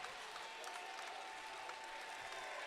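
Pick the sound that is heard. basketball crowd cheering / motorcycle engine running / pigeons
basketball crowd cheering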